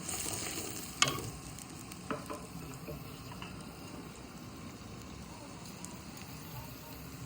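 Plenty of onion and green chili sautéing in a pan: a soft, steady sizzle with a sharp clink near the start and scattered stirring sounds, fairly faint and close.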